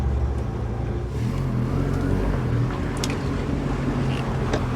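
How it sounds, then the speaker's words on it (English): A Rover 45 car engine runs steadily from inside the cabin, a continuous low droning hum with a slight rise and fall in pitch, loud and close throughout with no talking. "Engine sounds okay as well."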